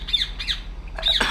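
A bird in the video game République gives three loud, harsh squawks in quick succession, close and alone over a low steady hum.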